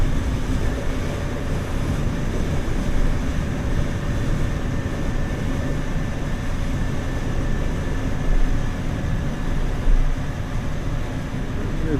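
Can-Am F3 motorcycle ridden down a steep hill while shifting from fifth into fourth gear, a steady loud engine drone mixed with wind rush, the pitch holding fairly even with slight surges.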